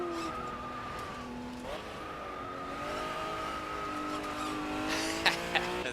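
A Nissan NSX-R drifting in a racing video game, its engine holding a steady rising and falling whine under sustained tire squeal, with a couple of sharp squeaks near the end.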